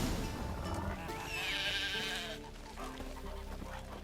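Sheep and goats bleating in The Witcher 3: Wild Hunt, several wavering bleats rising over a dense, busy ambient game soundscape, loud at first and then fading into quieter background noise.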